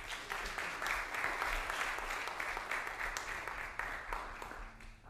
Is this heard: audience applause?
yes